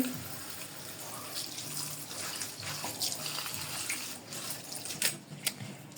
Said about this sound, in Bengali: শাক সবসময় জালের মধ্যে ধুলে ভালো হয় তো এভাবে আমি ধুয়ে নিচ্ছি